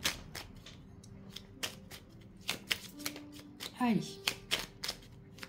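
Tarot cards being shuffled for a new draw, giving a series of crisp riffling snaps and slaps at an irregular pace, close and fairly quiet, with a brief spoken word partway through.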